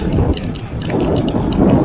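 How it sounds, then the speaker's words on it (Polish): Steady rain patters loudly nearby in a forest during a mountain bike ride, with a dense, continuous hiss and occasional heavier drops, no one speaking. "po prostu ciągle pada"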